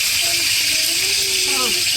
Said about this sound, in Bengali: মাছ এখন ভাজা হচ্ছে।